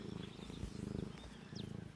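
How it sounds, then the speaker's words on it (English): A cat purring close to the microphone in a steady, rhythmic low rumble with regular pulses throughout, alone without talk. "See if we can get your purr on the microphone."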